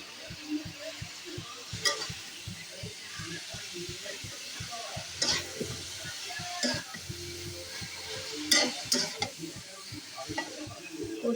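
Water lily stems are stirred and fried in a pan, with a soft sizzle under regular spatula taps and occasional louder scrapes against the metal.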